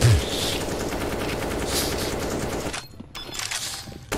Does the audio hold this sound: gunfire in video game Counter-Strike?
yes